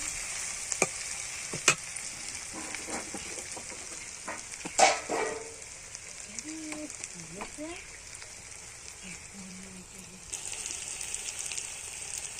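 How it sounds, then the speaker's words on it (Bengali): Country chicken stir-fried with salt in a pan, giving a moderate sizzle broken by several scraping and clattering stirs, with a dog barking faintly in the background and brief low sounds nearby. "সামান্য নুন দিয়ে ভালো করে কষিয়ে নেবো"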